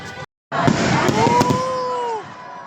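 Christmas fireworks in Santo Tomas, Batangas, Philippines crackle and pop in a dense burst, with a whistling tone rising through it and crowd noise beneath.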